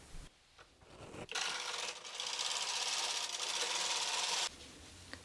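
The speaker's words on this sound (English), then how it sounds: "Now I will just knit a few rows of waste yarn and take it off machine." A Brother knitting machine with ribber knits rows of waste yarn, a close, loud rasping whoosh as the carriage sweeps across the needle bed for a few seconds, then stops with light clicks.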